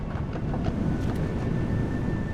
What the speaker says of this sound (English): My train's running.